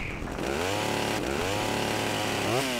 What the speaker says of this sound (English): got a bloody hillbilly chainsaw guy